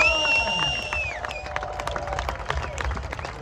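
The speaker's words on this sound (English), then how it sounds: "let's hear a nice big round of applause for today's race 1 winner of the EB Sprint Race" Crowd applauding a race 1 winner of a sprint race at a Brands Hatch stage event, a mix of clapping and cheering at moderate distance, with tonal sounds and babble fading out early on.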